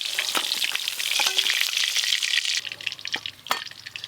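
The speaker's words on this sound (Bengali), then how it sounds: "এই কই মাছগুলো সব ভাজা হয়ে গেছে," Koi fish fry in hot oil with a loud, close crackling sizzle, punctuated by a few sharp scrapes and knocks as the pieces are stirred and lifted, the frying quieting slightly toward the end.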